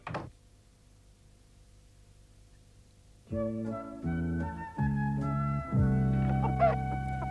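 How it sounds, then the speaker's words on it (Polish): Quiet hum, then several chickens clucking and squawking in short overlapping bursts, fairly close and getting busier toward the end. "George Lancaster pokazał patowi kury, które hodował na swojej farmie"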